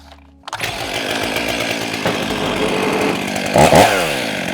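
Stihl MS500i chainsaw, a very large saw, catching after a brief quiet moment and roaring up into a loud, close, steady running buzz with a sharp rev burst near the end.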